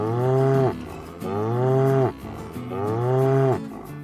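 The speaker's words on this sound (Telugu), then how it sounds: "అలా ఆవు అరుస్తున్న శబ్దానికి" A cow bellows three times in a row, each long moo rising then falling, loud and close with short pauses between and nobody talking.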